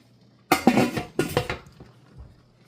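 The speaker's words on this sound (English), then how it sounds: "And I'll put the lid back on" A metal lid set back onto a pot of simmering turkey soup, giving two close clanking clatters in quick succession and then a faint rattle as it settles.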